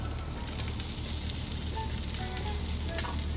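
Onions sizzling and frying on a flat griddle while a single Philly cheesesteak is being made, a steady close, dense hiss with faint clinks, no talking.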